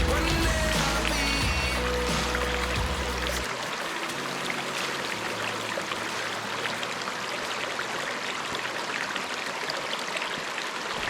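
Rushing water pours steadily at Panther Creek Falls, a broad continuous roar that stays even for the whole stretch, with music playing briefly at the start.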